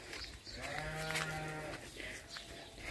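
Sheep bleating once in a drawn-out wavering call, fairly close, with faint background noise and a soft second bleat trailing after.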